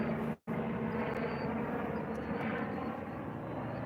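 A helicopter flies overhead, giving a steady, faint, distant rotor drone that continues throughout, interrupted by a brief dropout near the start.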